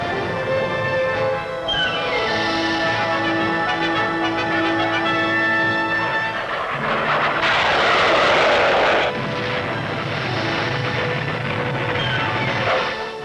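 Loud F-4 Phantom fighter jet engine roar swelling and passing overhead amid rumbling background noise, with a brief surge of harsh broadband noise midway; 1965 recording.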